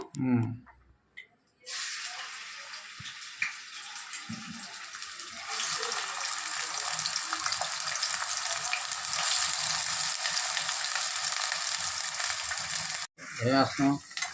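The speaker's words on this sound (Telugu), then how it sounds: "ఇదే ఉల్లిపాయలు చికెన్ కి వేగుతున్నాయి" Chopped onions and green chillies frying in a pan for gongura chicken curry, a steady loud sizzle that holds for several seconds with occasional stirring, and a voice talking briefly at the start and end.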